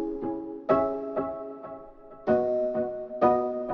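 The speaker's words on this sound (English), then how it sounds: "that kind of piano type of instrument that I'm using in the background that has the chords." A piano-type instrument plays sustained background chords for a beat, with each chord struck in a slow repeating pattern and left to ring and decay, warm and clear, without voices.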